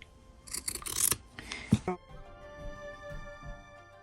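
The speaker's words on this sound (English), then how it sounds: "Cut this extra away, everyone." Scissors snip away extra fabric while a tote bag is sewn, giving a few quick close crisp cuts followed by quieter rustling of cloth.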